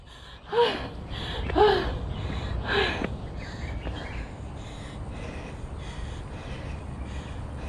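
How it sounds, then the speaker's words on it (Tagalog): Heavy breathing and gasping from a person out of breath while walking uphill on a damp path in Yeun Chau Kok Park, Hong Kong, with three loud gasping breaths near the start, then quieter sustained breathing. "Pero hinihingal na ako."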